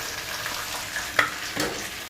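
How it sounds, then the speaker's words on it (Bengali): Batter-coated boneless chicken manchurian pieces deep-frying in a wok of oil, a close, steady bubbling sizzle with a couple of sharper clinks and stirring scrapes. "এখানে আমরা বাকি ব্যাটার কোটেড চিকেন মাঞ্চুরিয়ান পিসেসগুলিকে ভেজে নিচ্ছি।"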